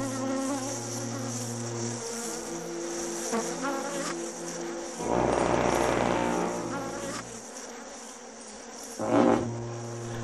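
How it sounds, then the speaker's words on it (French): A swarm of giant honey bees in Nepal makes a dense, steady droning buzz that fills the whole stretch, swelling louder in surges near the middle and again toward the end. "Des milliers d'abeilles attaquent toute forme de vie qui se trouve à proximité."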